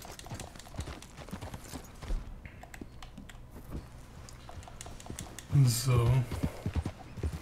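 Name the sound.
horse hooves from video game Red Dead Redemption 2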